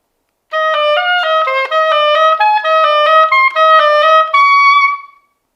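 A solo oboe plays TMEA etude #28 as a close, clear legato line of connected notes, ending on a held tone before stopping.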